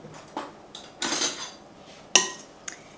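Vegetables stirred in a pot with a utensil, giving a few separate clinks and scrapes of metal against the pot, the sharpest one near the middle, close and fairly quiet with near silence between strikes and no talk.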